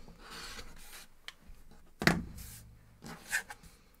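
Quilt block fabric pieces being trimmed with a cutter along a ruler on the diagonal, soft close rubbing and scraping strokes with one sharper cut near the middle, quiet and without talk.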